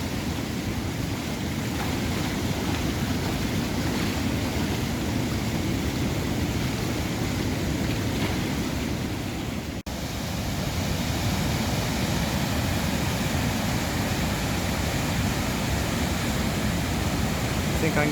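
The river Taff, swollen by heavy overnight rain, rushes over Llandaff weir in Cardiff as a loud, steady roar of churning water that holds constant throughout with no talk.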